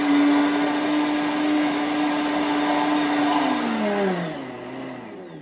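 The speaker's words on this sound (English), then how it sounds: "we've had this blending for about a minute, and you'll see right around the edges in the Vitamix, it's still got some chunks" A Vitamix blender runs loud and steady nearby, whirring through keto lemon meringue pudding made with eggs, its motor pitch gradually dropping as it winds down at the end.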